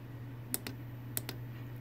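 A button on a custom RN-42-based Bluetooth HID keyboard device is pressed twice, each press giving a pair of quick, sharp clicks over a steady low electrical hum.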